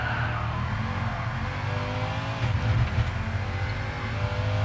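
A Ford Mustang racing in Gran Turismo Sport, its engine droning loud and steady with harmonic tones and a brief surge of revving and tire scrub midway, alone with no talk.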